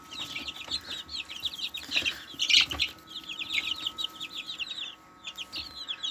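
Fifteen-day-old chicks hatched in an incubator peep and cheep continuously at close range. The high chirps come in busy overlapping runs, with a brief pause near the end.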